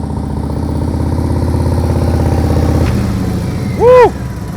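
A motorcycle engine labours at low speed during slow-speed riding practice, a loud, close, uneven chugging drone that drops off near the end before a brief rising whine cuts in.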